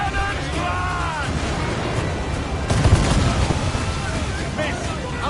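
Cannons firing from a ship at sea, heard as rough booming blasts among wind and wave noise, with shouting voices over the din.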